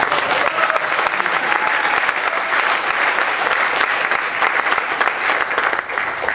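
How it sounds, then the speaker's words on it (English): A crowd at a fireside chat event gives the organizers a sustained round of applause, with dense, steady clapping throughout and no break. "Frank and Jen, can everyone give them please a big round of applause for putting this event on?"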